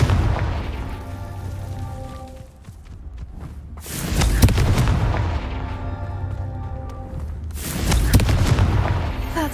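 Explosions from the Confringo fire spell in Hogwarts Legacy, two deep booming blasts a few seconds apart over steady game ambience, each with a sharp hit and a rumbling tail.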